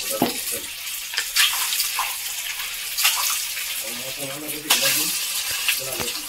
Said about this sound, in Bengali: ডিমগুলো এখন তেলের মধ্যে ছেড়ে দেবো।